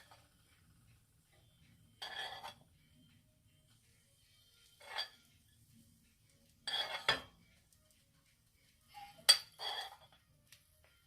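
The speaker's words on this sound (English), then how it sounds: "So now I'm going to put in my sausage." Sausage going into a Tex-Mex style omelet in a pan: a few soft, separate clinks and scrapes of a utensil against the pan, faint and spaced out in a quiet room.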